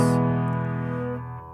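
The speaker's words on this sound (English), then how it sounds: "the repetitive M's into a melismatic O vowel." A single sustained sung 'O' vowel with a rich, steady tone that gently fades over about a second and a half.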